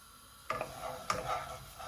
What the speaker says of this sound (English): Just want to stir that up.